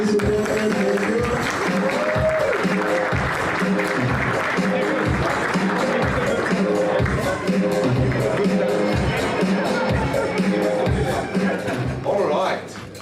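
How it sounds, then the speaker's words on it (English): A crowd applauds the host at the CGL Awards 2021 ceremony with loud, sustained clapping and cheering that carry on under hubbub and voices, then thin out near the end. "A round of applause, ladies and gentlemen."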